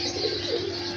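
A Kasuri pigeon gives a brief, close, low cooing call, a short rolling throaty sound lasting about a second.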